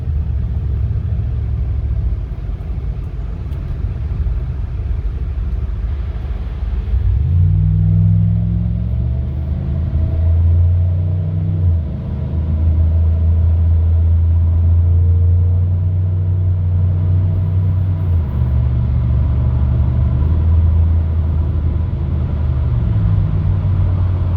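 A 2009 Chevy Impala SS engine revs up under hard acceleration on a hot day, a loud, steady low rumble with rising and falling harmonic sweeps as it pulls through the gears, heard close with no talking.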